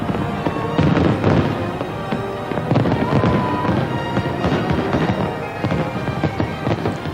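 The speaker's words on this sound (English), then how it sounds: "Thousands watched the spectacular fireworks display over Australia's most famous landmark" Fireworks burst over Sydney Harbour Bridge at a New Year celebration, a dense, loud run of crackling pops and booms with no break between them and no voices.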